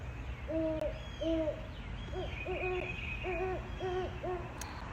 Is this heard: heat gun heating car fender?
no